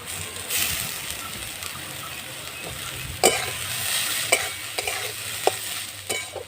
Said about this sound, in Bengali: এবারে দেখুন গ্রেট করে রাখা কাঁচা আলুটা এবারে দিয়ে দেব